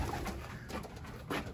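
Racing pigeons cooing in a loft, a few soft low coos close by over a rustling, noisy background.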